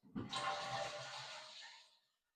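A toilet with a ceramic flush plate flushes once, a close, loud rush of water that starts sharply and tapers off over about two seconds, with no talking.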